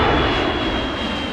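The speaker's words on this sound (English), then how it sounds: "Air tanker plane." Steady, loud roar of a propeller air tanker engine, continuous and close throughout, with no other sounds.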